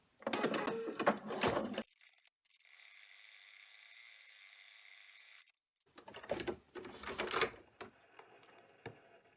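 Embroidery machine stitching the finishing outline of a felt heart applique on an in-the-hoop coaster, a steady mechanical whir running alone for a few seconds between bursts of louder handling noise.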